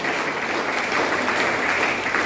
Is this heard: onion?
no